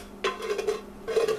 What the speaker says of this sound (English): kind of scrape up those bits